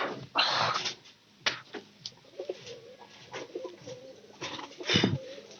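Domestic pigeons coo softly in their loft, low throaty calls repeating irregularly alongside rustling and scraping movement, fairly close and moderately quiet, with no talk.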